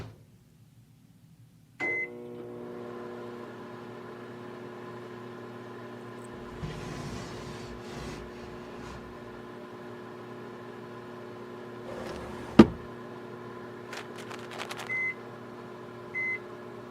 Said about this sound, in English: I'll make sure to microwave it for you.